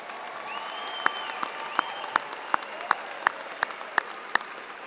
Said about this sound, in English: It's all right if you want to give a round of applause for these folks